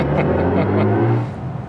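Artificial electric driving sound from a BMW i5 M, a sustained synthetic hum with steady low tones, close and even, tapering slightly near the end.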